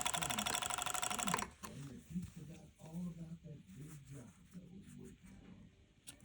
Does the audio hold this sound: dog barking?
no